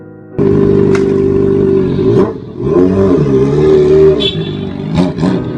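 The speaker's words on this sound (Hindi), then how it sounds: "तभी अचानक एक बढ़िया स्पोर्ट्स बाइक पर सवार एक लड़का वहां आता है।" Sports motorcycle pulling up with its engine revving loudly, strong harmonic engine tone rising and falling through several throttle blips, close and alone with no talk.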